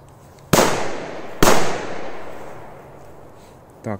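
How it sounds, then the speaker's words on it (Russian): A Korsar-4 firecracker bursts twice, two loud, sharp bangs about a second apart, each trailing off in echo, followed by a short voice near the end. "По-моему, 2 взрыва."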